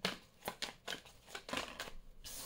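Tarot cards being shuffled by hand, a run of soft papery riffles and slaps in quick irregular bursts, close and fairly quiet, with no talking.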